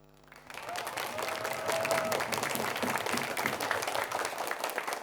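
A studio audience at an Indonesian televised high school quiz show in South Sumatra breaks into applause after a brief quiet start, swelling quickly into dense, loud clapping that holds steady.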